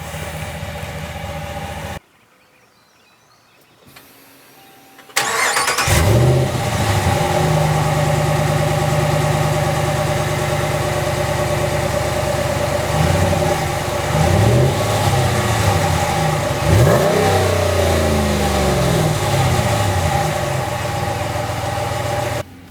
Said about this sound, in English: Let's take a look at the exhaust sounds.